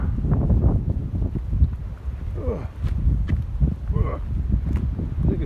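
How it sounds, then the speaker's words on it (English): Strong, cold wind blowing outdoors at the site of a former house, gusting and buffeting the microphone steadily throughout, with faint rustling and movement underneath. "Wind blowing me over."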